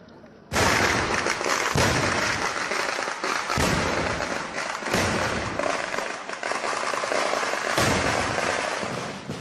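Fireworks and firecrackers set off by sparks in a stored pyrotechnics cache during a temple fire in India burst in a loud, continuous chain of explosions, with sharp blasts repeating through the whole stretch and no talking.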